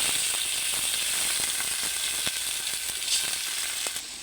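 Ground spice paste of ginger, garlic, turmeric and chilli sizzles and crackles steadily in a frying pan, a dense hiss broken by scattered sharp pops and ticks.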